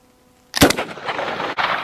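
A Winchester 9410 shotgun is fired outdoors at a painted steel target, giving one sharp, loud blast with a lingering tail, then a second burst shortly after.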